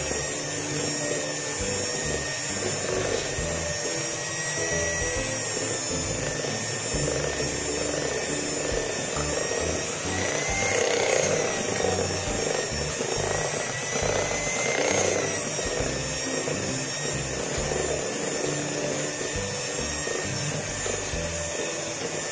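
Electric mixer whirring steadily on low speed through martabak batter, a continuous close motor drone that swells slightly partway through.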